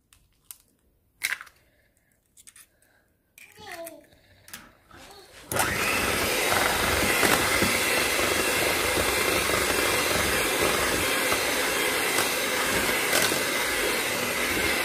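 An electric mixer beats eggs into sugar for chocolate chip cookie dough, starting after a few handling knocks and then whirring loudly and steadily to the end.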